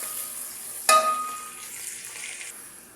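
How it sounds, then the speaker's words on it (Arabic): Onion hits hot oil in a pot for an Adeni zurbian, a sharp clatter at the drop followed by a loud, steady sizzling hiss that gradually settles. "هنا معنا زيت حار بالقدر. نضيف البصل، نقلبه حتى يتحمر"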